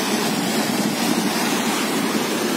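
Water rushing through a damaged irrigation canal in rural Kyrgyzstan, a loud, steady, broadband hiss of flowing water heard up close with no voices.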